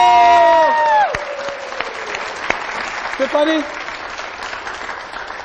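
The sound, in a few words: studio audience applause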